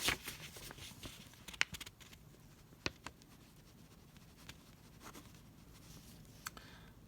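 A pen writes out a chemistry answer in faint, scratchy strokes, with soft irregular scrapes and light taps spread across several seconds.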